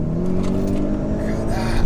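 A heavily tuned single-turbo Audi S8 making 1,000 horsepower idles and revs, a deep steady engine rumble with rising tonal overtones, loud and close, while a person talks over it.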